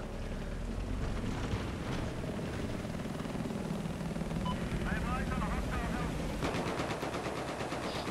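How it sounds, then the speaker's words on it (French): A helicopter in Battlefield 4 Beta conquest on the Shengai map thrums steadily amid heavy machine-gun fire and gunshots. People talk over the din throughout. "Et y'a un hélico alors."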